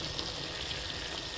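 Spicy chicken pirattal curry with tomatoes sizzling and being stirred in a pan, a steady, fairly faint frying hiss with soft scraping, no talk.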